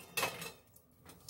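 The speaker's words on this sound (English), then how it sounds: "Now give it a stir." Southern-style baked beans with barbecue sauce, ketchup and molasses stirred in a pot: a single brief scrape and clink of utensil against cookware, then quiet low bubbling.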